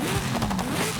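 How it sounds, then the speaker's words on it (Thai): A deep, throaty American V8 engine of a Hennessey Venom GT in the game Forza Horizon 5 roars steadily at close range, its revving pitch wavering slightly throughout the second. "โอ้โหเสียงเครื่อง V8 เมกันครับผม"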